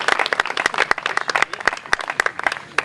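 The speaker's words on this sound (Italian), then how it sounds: "facciamo un applauso a questo sconosciuto" Festival audience at a film awards ceremony clapping, sharp separate hand claps in a loose, uneven rhythm from a modest crowd, fairly close and lasting about three seconds.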